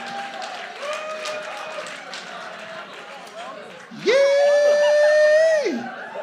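Audience applause and cheering at a live comedy dating show in Minneapolis, a broad crowd noise running steadily under a voice, which swells into a loud sustained shout or whoop near the end.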